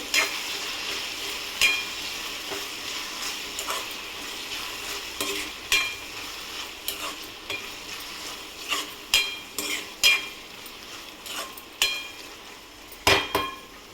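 A tomato curry frying in a pan is stirred with a utensil, giving repeated scraping, clinking strokes at an uneven rhythm over a steady low sizzle, close and fairly loud, with no talking.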